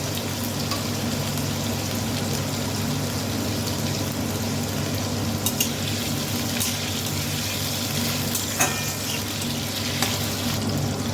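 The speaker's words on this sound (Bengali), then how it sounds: "আলুগুলোকে লাল করে ভেজে নেব।" Potatoes frying in oil that was already used for frying nuts, with a pinch of salt added, a steady close sizzle and crackle with occasional louder pops and no talking.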